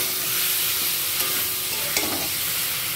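Turmeric-spiced masala stir-fried in a pan for a masoor dal dish, giving a steady soft sizzle with a couple of light scrapes of the spoon, close and continuous with no talking.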